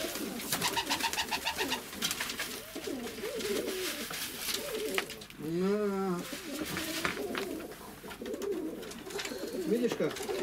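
Pigeons at a feeder coo repeatedly in soft, throaty calls, with a rustling, pecking bustle around them and someone talking in the background.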